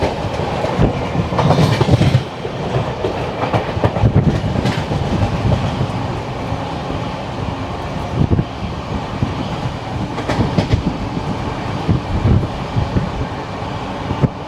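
The 22157 Mumbai CSMT–Chennai Egmore Mail superfast express rolls out of Guntakal station, with a loud, continuous rumble of carriages and repeated clickety-clack from wheels crossing rail joints for the whole stretch.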